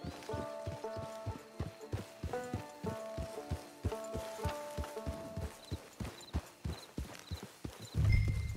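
Steady rhythmic clip-clop of horse hooves walking at an even pace in Red Dead Redemption 2, close by, with soft music in the background and a brief rustle at the end.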